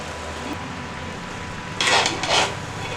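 Cooked mutton pulao is stirred in a pot, two short scraping swishes of rice against metal, close and distinct over a quiet background.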